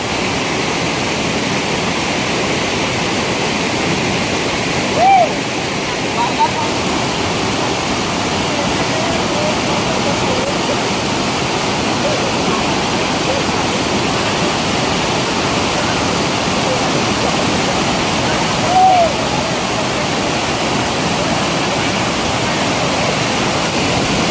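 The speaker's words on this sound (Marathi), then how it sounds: "इथे मस्तपैकी धबधबा आहे छोटासा." A small waterfall in a stream makes a steady, broad rush of falling water that stays even and fairly loud throughout, with a couple of faint brief knocks.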